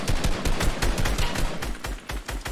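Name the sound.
gunfire in a video game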